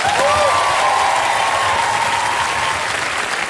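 A studio audience at a comedy panel show applauds steadily and loudly, with a held musical tone sounding over the clapping.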